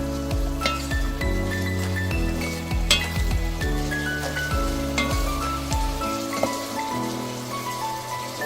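Pabda fish in a spicy oil masala fries steadily over a lowered gas flame, with a continuous close sizzle and a few clinks from stirring in the pan.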